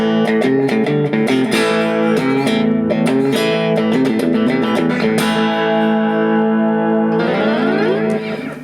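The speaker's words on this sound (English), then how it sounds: "And then we have the slap echo on this one." Guitar played through an MXR pedal board with a short slapback echo effect, bright chords and single notes repeating quickly behind each attack, loud and continuous for several seconds before fading out.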